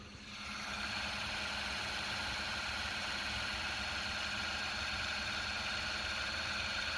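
A 4 inch rotor spinning near resonance rises quickly into a loud, steady mechanical hum with layered whining tones that holds evenly and close for several seconds.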